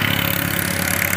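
A loud heavy truck engine on a toll road rumbles with a rapid, throaty pulse from a modified exhaust close by, steady and unbroken.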